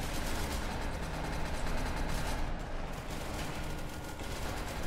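AK gunfire in SCP: Secret Laboratory, a dense, rapid rattle of automatic shots that runs steadily with mechanical clatter, moderately loud and unbroken.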